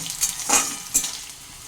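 Potatoes frying in a pan are stirred, giving a steady sizzle with three quick scraping strokes of the spoon rising above it, close and fairly loud, with no voices.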